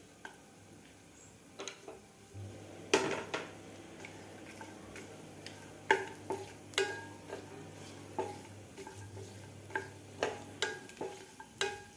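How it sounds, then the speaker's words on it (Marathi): Coconut slices roasting in a spoonful of oil, a faint low sizzle beneath sharp, irregular clinks and scrapes of a spoon against the pan, growing more frequent near the end. "त्यानंतर आपल्याला हे खोबऱ्याचे काप भाजून घ्यायचे आहेत"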